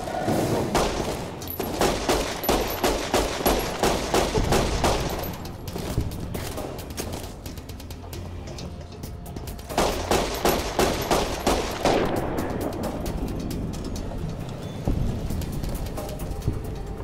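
Rapid bursts of gunfire from Fallout: New Vegas crackle in repeated volleys, a long run of shots, a lull, then another dense burst before it trails off, with no voices over it.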